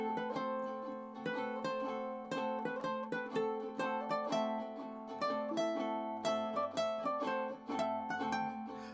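Ukulele plucked through a melody, bright picked notes and strummed chords in a steady, close, unaccompanied run with no voices.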